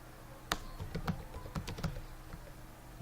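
Keys clack on an English-layout computer keyboard in a quiet room, a short irregular burst of soft taps heard up close with no talking.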